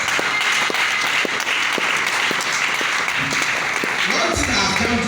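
Church congregation at an Assemblies of God service in Ghana clapping steadily as a woman comes forward, with dense applause throughout, a few sharper claps and voices faintly beneath near the end.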